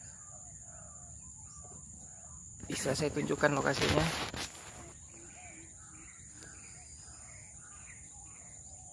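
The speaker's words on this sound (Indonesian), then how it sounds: "suara burung roa-roa, tekukur, punai di sini sudah mulai terdengar banyak sekali kawan" Wild birds, including roa-roa, turtle doves and green pigeons, call repeatedly from bushland at middle distance. A short burst of talk interrupts midway.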